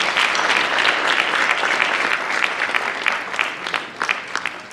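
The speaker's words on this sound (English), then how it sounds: "Let's give them a round of applause." An audience applauds middle school scholars at a school day of celebration, a dense burst of clapping that thins out toward the end into scattered individual claps.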